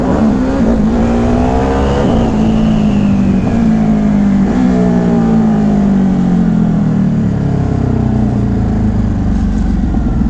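Ducati Hypermotard motorcycle engine pulling hard while riding, revs climbing and falling through gear changes, loud and steady with wind rush close by.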